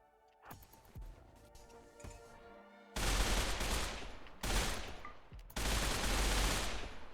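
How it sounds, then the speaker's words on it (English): Bursts of rapid automatic turret fire from a defensive wall of turrets in the colony game Rimworld, starting with scattered shots and swelling into dense, loud sustained volleys broken by brief gaps, with no talking. "this is a job for, the wall of turrets and not the, mortars"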